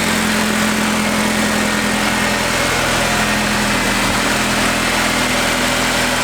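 A turbocharged Honda K20 engine in an Integra idling just after starting: a steady, loud, continuous engine drone with a low rumble, close and unbroken, with no talking.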